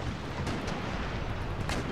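Warship cannons in Empire: Total War boom in a steady rumbling barrage, with a couple of sharper reports standing out over a continuous low roar of naval gunfire.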